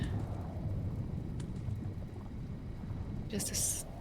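A thunderstorm in The Universim, a city-building video game, with steady rain hiss and low rolling rumble throughout, then a sharper burst near the end.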